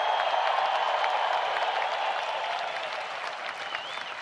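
Crowd at the Pro Football Hall of Fame enshrinement cheering and applauding continuously, a dense steady wash of clapping and shouts that gradually eases slightly, with a faint whistle near the end.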